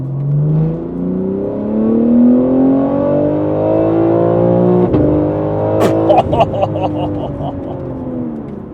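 BMW G8X M3/M4 fitted with a catless downpipe and equal-length mid-pipe, still on the original back box, pulling hard onto a highway; a loud, rising straight-six engine note climbs through the gears, with sharp crackles near the end.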